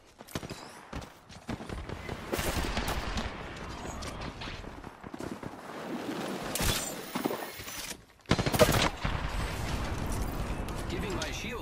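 Apex Legends gunfire crackles in busy bursts of shots across the whole stretch, loud and mixed with game effects and a voice talking, with a sharp heavy burst near the end.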